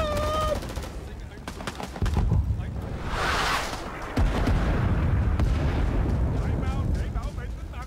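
A video game artillery barrage: heavy booming explosions land in bursts, with a large blast near the middle and rolling detonations after, amid battlefield clutter.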